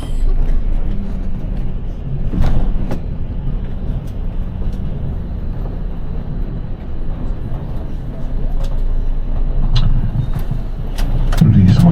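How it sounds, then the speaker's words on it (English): Coach pulling into a coach station past another coach, a steady low rumble of its engine and road noise throughout, with brief clunks and a swell near the end as it slows. "Arriving at the coach station, pulling in past a Flixbus."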